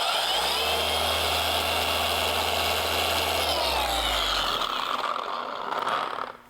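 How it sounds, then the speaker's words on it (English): A car paint polishing machine spins at its highest speed, a loud steady whir with a low hum that holds for several seconds, then eases off and fades out near the end. "Highest speed the machine will go."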